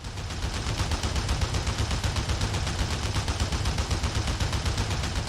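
Anti-aircraft fire in the IL-2 combat flight sim, a dense, continuous rapid stream of gunshots with a rumbling low end, loud and steady throughout with no voices.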